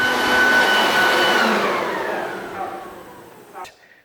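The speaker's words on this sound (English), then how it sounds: "I'm going to clean everything out, which technically means the leaf blower" A leaf blower blasts drywall dust out of a room, a loud steady roaring whine that slowly winds down and fades, then cuts off with a short clunk near the end.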